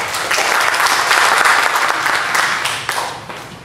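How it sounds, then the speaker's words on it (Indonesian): An audience claps for two people at a gathering, producing dense, continuous applause at close range that holds steady for about three seconds before thinning out at the end. "Kita tepuk tangan dulu ke dua orang."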